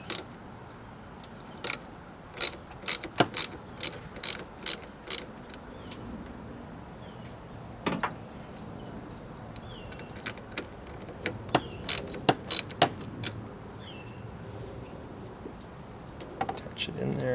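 A socket wrench works a 12V battery's positive terminal, giving scattered sharp metallic clicks and ratcheting bursts at close range over a quiet background.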